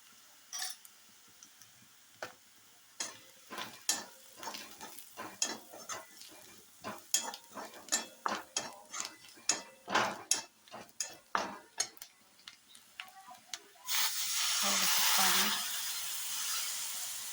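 Onion with red chili powder, black masala and turmeric frying in a pan for a cluster bean curry, with repeated sharp stirring scrapes over a steady low sizzle, ending in a louder burst of hissing.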